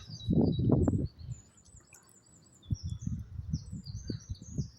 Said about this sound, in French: On entend les oiseaux.